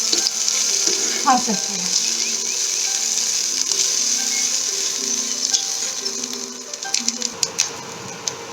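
Spine gourd pulp frying in a pan, giving a steady high sizzle that runs throughout, with a few faint clinks toward the end; a voice speaks briefly under the frying.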